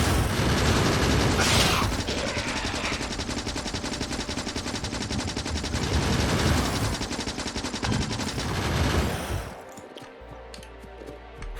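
Gun turrets in the video game Factorio firing in rapid continuous machine-gun bursts for about nine seconds, dense and loud, before cutting off into quieter game ambience; no talking.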